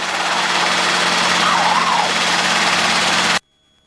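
Steady, loud broadband engine roar of a hovering Robinson helicopter at Floyd Bennett Field, with a faint tonal whine rising and falling briefly, cutting off abruptly near the end.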